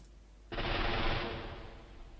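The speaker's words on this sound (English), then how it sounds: "450 guys shooting you in the flank." Massed rifle volley from Civil War infantry in the Battleground: Antietam strategy game, bursting in abruptly as a dense crackling roar of many muskets that holds steady, then slowly thins and fades.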